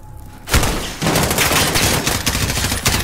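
Rapid automatic gunfire in a Call of Duty: Modern Warfare campaign mission, a dense loud burst of shots starting after a brief quiet moment and continuing without pause to the end.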